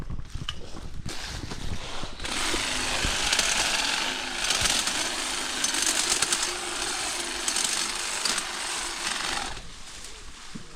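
A Stihl HSA 100 battery hedge trimmer cuts through thick branches about half an inch across, giving a loud, steady buzzing roar for several seconds with no voices.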